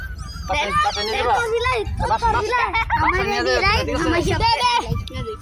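A cat meows repeatedly in rising, drawn-out cries while children chatter and talk nearby.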